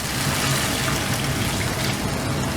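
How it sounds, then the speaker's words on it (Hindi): Water is poured into a pan of sautéed prawn curry masala to make the gravy. A steady, close, rushing splash runs without a break the whole time. "1 कप पानी डाल लिया इसमें कड़ी बनाने के लिए"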